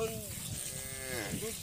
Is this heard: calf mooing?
yes